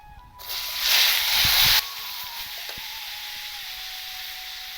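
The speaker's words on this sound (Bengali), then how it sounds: "আর এই যে আমি উচ্ছে আলুটা নিয়ে নিয়েছি কেটে রেখে দিয়েছি সেটা এখন আমি দিয়ে দেবো তেলের উপরে" Cut bitter gourd and potato pieces drop into hot oil, setting off a loud burst of hissing sizzle that settles after about a second into a steady, softer crackle with occasional pops.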